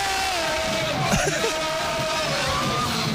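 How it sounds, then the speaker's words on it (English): A man screams and yells over a loud, dense wall of live punk music and crowd noise at a concert, his voice raw and sustained amid the distorted din. "There's Alex again screaming"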